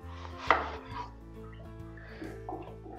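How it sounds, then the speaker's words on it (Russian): A knife slices onion into thin half-rings, giving one sharp cut followed by a few soft, faint strokes close by. "Режем лук тонкими полукольцами."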